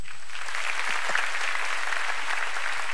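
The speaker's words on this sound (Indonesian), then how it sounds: "Boleh tepuk tangan." An audience at a pesantren religious gathering applauds steadily, a dense wash of clapping at moderate volume with no break.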